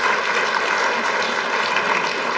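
Audience applause at an awards ceremony in a conference hall, a dense, steady wash of many hands clapping that holds at a constant, fairly loud level throughout, with no voices standing out.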